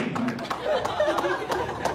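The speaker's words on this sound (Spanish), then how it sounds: "Aplauda, aplauda, aplauda." A church congregation claps in rhythmic, fairly close bursts, mixed with chatter and some laughter.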